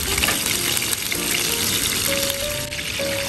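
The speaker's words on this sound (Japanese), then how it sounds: "今弱火にしたんで、弱火でじっくりですね、豚のひき肉に火が通るように" Mini hamburgers of ground pork wrapped in shiso and pork belly fry slowly over low heat in a pan at an outdoor campsite, giving a steady, close sizzle with soft crackles throughout and no talking.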